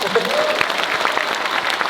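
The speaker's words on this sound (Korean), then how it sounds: "그러면 저희 고생한 나와 우리 서로를 위해서 박수 한번 쳐볼까요?" Crowd clapping at an outdoor memorial concert, a brisk burst of applause with scattered sharp claps, and voices and laughter mixed in near the start.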